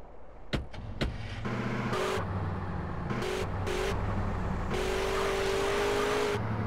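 A car drives in GTA San Andreas during a car-stealing mission, with a steady engine drone rising and falling through gear shifts after a few sharp knocks at the start, no speech heard.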